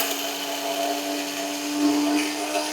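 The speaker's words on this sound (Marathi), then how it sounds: "सगळ्यात आधी भाजलेलं खोबरं, तीळ आणि खडे मसाले मिक्सरमध्ये घालूयात" Kitchen mixer grinder whirring steadily as it grinds roasted coconut, sesame seeds and whole spices, a continuous high motor whine with slight rises in pitch as the load shifts.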